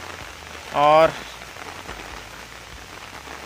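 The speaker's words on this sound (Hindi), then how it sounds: "और बारिश अभी हो रहा है ज़बरदस्त" Heavy rain falls on a village pond and the surrounding flooded fields, a steady, even hiss throughout, with one brief spoken word near the start.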